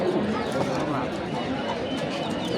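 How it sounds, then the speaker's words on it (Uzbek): Pigeons coo softly amid a dense wash of crowd chatter and voices at a small pigeon market in the old city bazaar of Navoi, the calls blending steadily into the busy background. "yaxshi kaptarlar olib kelganman"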